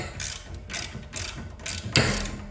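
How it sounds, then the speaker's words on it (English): A hand wrench ratchets in quick clicking bursts while tightening bolts on a garage door track, close and clear, with a sharper metallic clunk near the end. "Then I'm gonna grab this thing, my wrench,"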